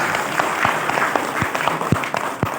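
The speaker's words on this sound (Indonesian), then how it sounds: "Tepuk tangan untuk kita." An audience at a Halal Bihalal gathering applauds in a dense, steady round of clapping, fairly close and loud, with a few sharper individual claps standing out.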